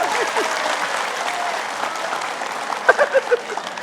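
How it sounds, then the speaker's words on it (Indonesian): A studio audience at a religious talk show applauds in a loud, steady wash of clapping, with a few louder claps and a voice near the end. "tepuk tangan Bapak"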